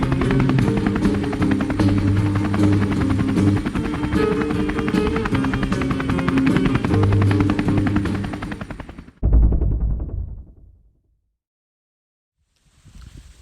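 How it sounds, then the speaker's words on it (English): A helicopter's rotor thumps steadily and loudly for several seconds over oak savanna at Cedar Creek Ecosystem Reserve, then an abrupt cut to a brief low rumble and silence. "Let's take this chopper down."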